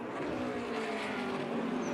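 Race cars running the final lap at Circuit of the Americas, a continuous loud engine drone with passing roar and faint tire noise throughout.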